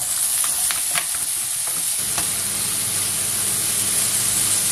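Bacon lardons browning in a pan for a quiche with mushrooms: a loud, constant sizzle, with a few utensil scrapes and taps at first, then an even frying hiss.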